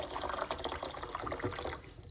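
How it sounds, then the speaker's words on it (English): Hot water being poured in a kitchen, a soft steady splashing fill with a faint trickle, fairly quiet and heard on its own. "put some hot water"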